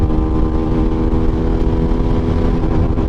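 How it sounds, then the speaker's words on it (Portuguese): An SBM250s motorcycle engine is held at high revs near the rev limiter, producing a loud, close, steady buzzing drone that barely wavers. "Eu vou deixar a moto cortar, olha aí."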